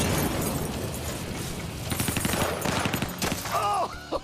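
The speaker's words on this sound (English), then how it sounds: "here's one of a boy shooting a lever action rifle" A lever action rifle is fired in rapid succession by a boy, a loud, fast string of close shots with a burst of other gunfire around it, and a brief excited voice near the end.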